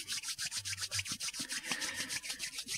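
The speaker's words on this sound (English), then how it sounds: "Bring your hands together in front of you" Two palms rub briskly back and forth, making a fast, even swishing friction with regular strokes, close and fairly loud with no speech over it.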